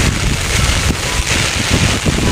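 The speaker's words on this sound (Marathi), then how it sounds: "वारा वगैरे सुटलाय" Strong wind during monsoon rain in rural Konkan roars in continuous loud gusts close to the microphone, with rain hissing underneath.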